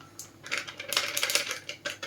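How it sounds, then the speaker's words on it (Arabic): A bag of starch is emptied into whole, creamy farm milk, giving a steady granular rustle and patter with crinkling packet noise, close and fairly quiet, with no talking. "هفضي عليه كيس النشا"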